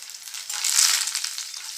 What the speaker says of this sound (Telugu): ఇప్పుడు ఒక రెండు రెమ్మలు కరివేపాకు కూడా వేసి వేయించుకోవాలి